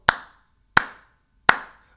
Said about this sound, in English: A little slow clap.